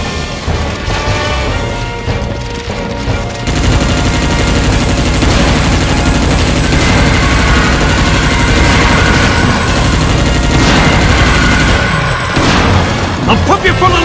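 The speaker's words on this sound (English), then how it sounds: "Snipers! Ready to fire!" Gunfire crackles from a sniper squad in Earth Defence Force 2017, a loud, sustained barrage with booms and rapid shots that begins after a few seconds and runs steadily on, with voices over it.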